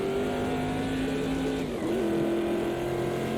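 A Corvette C3 in the racing game AMS2 at Bathurst holds a steady, loud engine drone under acceleration, its pitch dipping briefly mid-clip before climbing again, with no talk.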